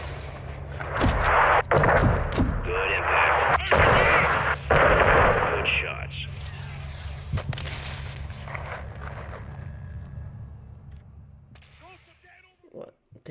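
Heavy gunfire in Call of Duty: Modern Warfare 2, loud repeated rifle shots and booming blasts in rapid bursts up close, fading into quieter distant pops, with radio-style voices speaking over the battle.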